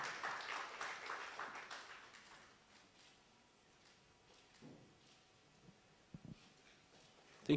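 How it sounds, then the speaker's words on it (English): Applause from a health summit audience fades out over the first few seconds, moderately loud then thinning to scattered claps, followed by quiet room noise and a few soft knocks and shuffles. "A round of applause, ladies and gentlemen."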